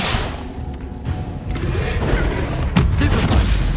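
Incendio fire spell cast in Hogwarts Legacy, a loud booming whoosh with thuds and a burst near the end, dense and close, with no talk.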